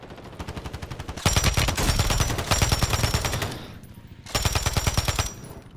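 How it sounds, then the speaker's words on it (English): Gunfire from the Call of Duty video game: rapid automatic bursts crackle loudly in two sustained volleys with a brief lull between, close and dense, no voices over them. "They're shooting into that building across the way."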